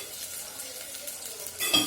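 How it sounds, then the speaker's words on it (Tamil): Onions and green chillies sauté in a pan for a crab curry: a faint, even sizzle runs throughout, then a brief louder scrape of a utensil stirring near the end, with no voices. "வெங்காயம் நல்லா வெங்காயம் வதங்கட்டும். பச்சை மிளகாய் போட்டோம்."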